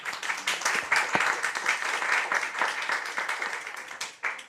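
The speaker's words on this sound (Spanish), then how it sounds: "les damos un gran aplauso a las investigadoras y acá también al comentarista" At the close of a talk on an interdisciplinary project about animated shorts made by Indigenous youth, an audience claps for the researchers and commentator: dense, steady applause that fades briefly near the end and then gives a few final claps.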